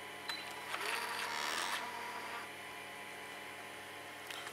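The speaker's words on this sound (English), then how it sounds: "I now feed the lipping or my edging into the machine." A Festool KA 65 Conturo edge bander with a magazine attachment takes in edging for rounded timber plates, giving a close mechanical whirring feed for about two seconds before settling into a steady motor hum, without talk.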